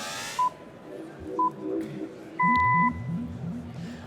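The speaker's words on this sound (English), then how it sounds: "Just wait for the beep." Electronic tone beeps at a live pitch event: a short beep, a second short one, then a longer louder beep, with faint crowd murmur and a low voice in the background.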